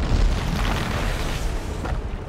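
In Dead Space, a boulder hurled into a gravity beam sets off a heavy booming crash that peaks early and then settles into a rumbling low roar that fades slowly.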